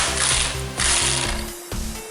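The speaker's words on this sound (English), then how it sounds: "We're going to use the impact so it's quicker." An impact wrench removes 15mm engine mount bolts during a passenger-side engine mount replacement on a PT Cruiser. It makes loud, rattling mechanical bursts with short pauses between them, and there is no talking.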